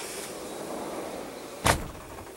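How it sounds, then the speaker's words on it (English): A household door is pushed shut with a single short, solid thud close by, rising out of a low, steady background hum without anyone talking. "Maybe I should shut the door."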